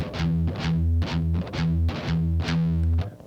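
Distorted electric guitar plays a riff in a chugging triplet rhythm, open E pedal tones alternating with fretted notes that step downward, heavy and loud in repeated bursts.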